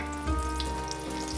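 Eggplant slices fry in hot oil with a steady, close crackling sizzle that swells in short bursts, with no voices over it.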